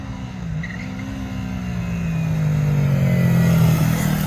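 An R3 mini moto engine revs with rising throttle, a buzzing drone that climbs steadily in pitch and loudness over a few seconds, heard alone and close.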